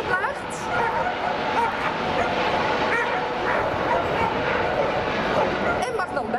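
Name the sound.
dog barking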